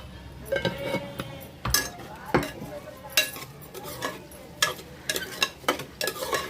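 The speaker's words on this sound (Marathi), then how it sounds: "तर भात छान परतून घेऊया" Rice and vegetables for a vegetable pulav are stirred and sautéed in a pan, with sharp intermittent scrapes and clinks of the utensil over a low sizzle, heard up close and without speech.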